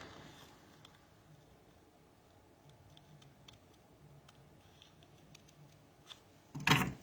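Scissors snip through card while a decorative box is being made, a quiet scattering of small clicks and snips, ending in a brief, louder rustling burst.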